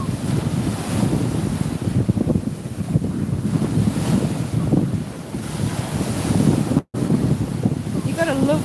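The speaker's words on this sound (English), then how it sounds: "I love the sound of those waves." Ocean waves rolling and breaking against a promenade slipway, a steady broad wash of surf with heavy wind buffeting the microphone throughout, briefly cut out near the end.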